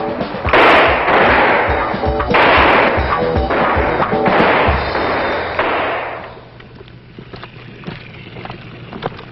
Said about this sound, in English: This is one of many opportunities the recruits will have to qualify with their rifle